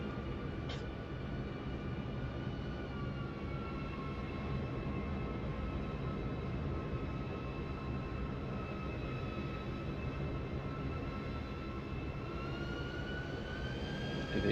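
A PMDG 777F airliner landing in Microsoft Flight Simulator, a steady loud jet engine roar with high whining tones that hold and shift slightly throughout, continuous and alone.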